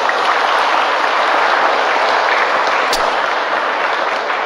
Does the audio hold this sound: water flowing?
no